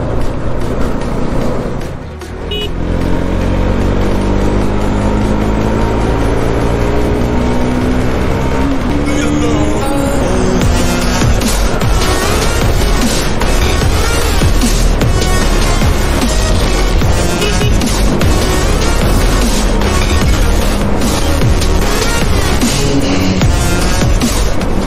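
Cars and other vehicles drive along a mountain road with wrong-side traffic, a loud steady rumble of engines and tyres close by, continuous throughout with a voice talking over it.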